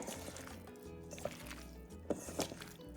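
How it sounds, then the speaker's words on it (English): Oily, wet conch salad being mixed by hand, giving soft squishy, liquid smacks and a few brief wet slaps close up, with no talking. "You mix it well."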